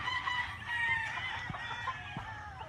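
Chickens on a farm in the Philippines cluck and crow nearby, several birds overlapping in a steady, busy chorus.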